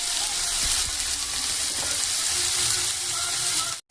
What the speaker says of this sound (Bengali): পেঁয়াজগুলোকে এখন একটু হালকা ব্রাউন কালার করে ভেজে নেব।